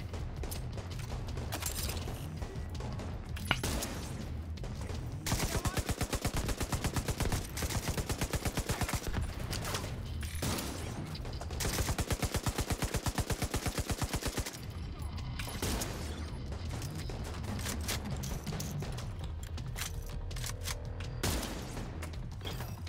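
A sniper turret fires in The Division 2 amid a firefight. Rapid, dense bursts of gunfire and mechanical clatter grow loud and sustained in the middle, with sparser shots before and after.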